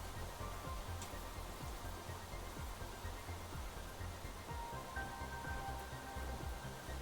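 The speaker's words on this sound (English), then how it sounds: "But it's raining." Steady rain falling in the Planet Crafter video game, a constant close hiss of drops with a low rumbling bed underneath, even and unbroken throughout with no talk.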